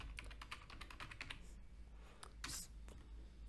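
A password typed on a computer keyboard gives quick, quiet, close key clicks in an uneven run, with a louder thump near the end.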